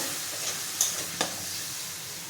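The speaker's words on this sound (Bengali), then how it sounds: "এখন মশলাটা খুব ভালো করে কষিয়ে নেব" Spice paste of ground coriander, chilli and cumin with a little water being sautéed for chicken keema biryani, with a soft steady sizzle and two or three brief spatula scrapes against the pan.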